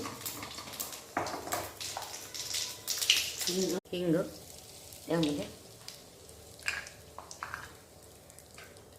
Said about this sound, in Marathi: आता तेल गरम होऊन तेल गरम झालं आहे, त्यामध्ये फोडणीला मी जिरं घालून देते